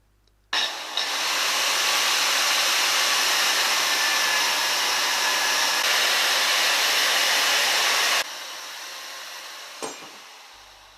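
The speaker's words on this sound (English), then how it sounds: "A thin disc in the angle grinder has saved a deal of hacksawing and makes short work of creating a simple spanner." An angle grinder fitted with a thin cutting disc slices through a rusty piece of steel to make a simple spanner, a loud, steady, continuous high-pitched roar lasting about eight seconds before cutting off, with a faint clink afterward.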